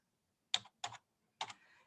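Three quick, crisp keystrokes on a computer keyboard, close and fairly quiet, spaced apart with a short tail of clicks after the last one.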